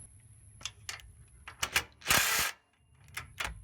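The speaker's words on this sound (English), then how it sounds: "So I'm just going to undo these 2 bolts and slide it down." A hand ratchet loosens bolts on the vapor canister of a 2005 Chevy Suburban, giving quick bursts of close metallic clicking spread across a few seconds, with a brief harsher whoosh partway through and no voices.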